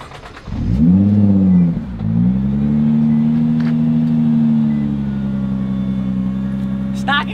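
A 2019 Nissan GT-R with its stock exhaust starts up and revs, one sharp close rise and fall followed by a settled throaty idle that holds steady, while people talk nearby.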